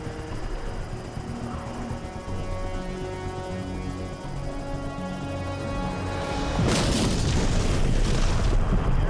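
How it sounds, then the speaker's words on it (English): Avalanche technicians set off an explosive charge to bring down snow-packed mountain cornices, heard over a steady helicopter rotor drone until a deep, rolling boom bursts in near the end and keeps rumbling. "high-flying AvTechs need to blow apart snow-packed cornices"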